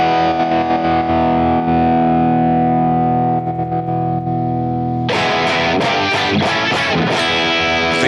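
Distorted electric guitar through a BOSS GT-1000 Brit Stack amp model based on a Marshall 1959, first a loud sustained ringing chord, then about three seconds of choppy, punchy rhythmic chords with sharp attacks.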